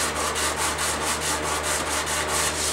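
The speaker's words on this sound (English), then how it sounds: "now comes the fun part, sanding." Steady back-and-forth sanding of a Kydex IWB pistol holster for a Beretta PX4 Storm, a continuous close abrasive rub in an even rhythm of about five strokes per second, with no talk.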